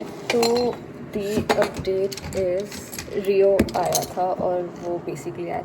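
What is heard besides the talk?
dog's food bowl clinking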